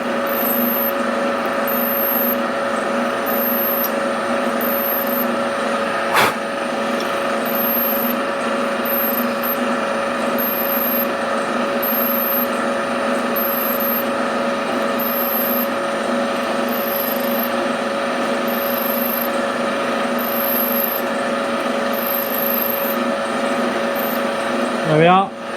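A drill bores steadily through a bronze piston gland on a lathe for a 7.25-inch gauge steam locomotive, a constant whirring mechanical hum with a soft repeating tick throughout and a sharp click partway.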